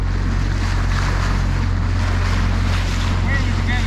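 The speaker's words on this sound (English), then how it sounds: "We're just running the engine in." Small boat engine running in at a lough in County Mayo, a steady low droning hum that continues throughout under wind and water noise.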